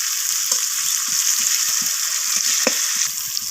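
Sliced onions sizzle in a pan of hot oil with bay leaves while a spatula stirs them, scraping and tapping in an irregular rhythm over a loud, continuous frying hiss.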